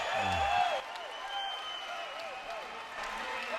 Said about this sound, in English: And the crowd comes alive at the PE Center